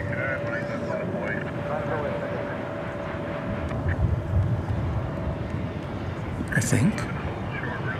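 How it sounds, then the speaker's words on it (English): An American Airlines jet arriving at Dallas Fort Worth Airport at night from Fort Myers, Florida, gives a steady broad engine rumble with a thin whine, under nearby talk. "American Flight 2736 is arriving now from Fort Myers, Florida"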